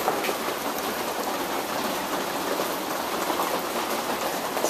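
Dense, steady patter of water leaking and pouring through the roof of a sunroom, dripping onto surfaces, close and continuous with no voices.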